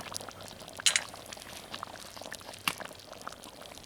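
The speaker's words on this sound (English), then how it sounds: "we're going to add in some light cream, or if you can't find light cream, such as I was not able to here, we'll use some half and half" Half and half cream being poured into clam chowder in a Dutch oven makes a soft, steady liquid trickle with a few light clinks, quiet and without talk.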